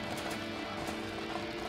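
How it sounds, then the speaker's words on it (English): Horse hooves clip-clop at a gallop in the video game Dreams, a steady busy rhythm under a dense, loud mix of game sound. "I didn't think those horses are on the ground."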